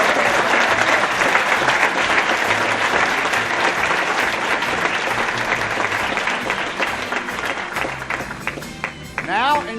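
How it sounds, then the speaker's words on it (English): A conference audience gives performers a long, dense round of applause that gradually thins, and a voice briefly sounds as the clapping fades at the end. "let's give our performers another round of applause"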